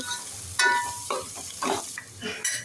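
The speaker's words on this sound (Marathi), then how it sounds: "आता इथे कांदा फ्राय झालेला आहे" Onion frying in a pan in a home kitchen, a soft sizzle broken by several short bursts of stirring and scraping, fairly close and quiet, with no voices.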